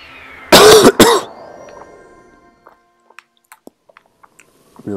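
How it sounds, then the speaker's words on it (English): Two sharp, close coughs in quick succession, followed by quiet with a few faint clicks and small taps. "Really sorry about the coughing."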